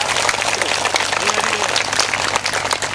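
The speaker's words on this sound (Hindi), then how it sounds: "आप लोग भी जोरदार तालियों से स्वागत करें इनका।" An audience at a school gathering for a spiritual satsang claps to welcome guests, a dense steady patter of applause that stays even throughout, with voices mixed in.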